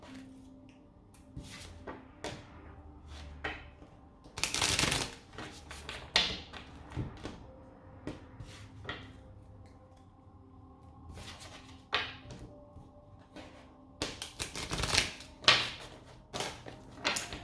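A Moonology Oracle card deck is shuffled close by with papery riffles and soft taps in irregular bursts, including a few louder flurries, and no talk.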